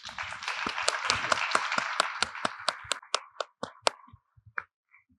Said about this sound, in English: If you can help join me in a round of applause.